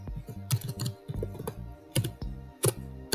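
Quiet typing on a computer keyboard, irregular clusters of soft key clicks with short pauses between bursts, close and alone.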